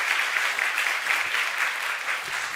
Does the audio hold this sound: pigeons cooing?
no